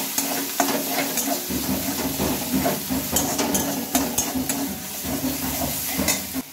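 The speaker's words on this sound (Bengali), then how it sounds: "বাটা মশলাটা দিয়ে একটু ভালোভাবে এটাকে নেড়ে চেড়ে নেব" Spice paste with turmeric and salt is stirred in a hot pan for potato and egg curry, oily sizzling under repeated scraping and clinks of a spoon against metal, close and irregular.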